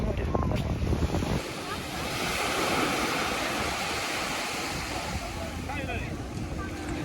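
Sea waves on an Ibiza beach, a steady roaring wash of surf close by with wind buffeting the microphone, continuous and fairly loud, with a brief noisy start.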